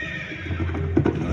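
Rani Lakshmibai's horse gives a loud close neigh with a few hoof clops, rising against a low background hum.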